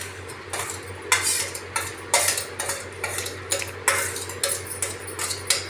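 Fenugreek seeds, dried red chillies and green chillies are stirred in a pan for a sweet potato chutney, with rhythmic metal spoon scrapes and clinks over a faint frying hiss.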